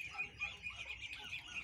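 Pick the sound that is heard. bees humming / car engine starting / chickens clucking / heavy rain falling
chickens clucking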